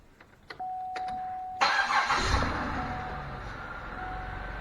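An old Buick with its stock exhaust cranks and starts after a few soft clicks and a steady chime, then settles into a mild, muffled idle, close and fairly quiet.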